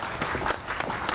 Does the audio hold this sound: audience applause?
yes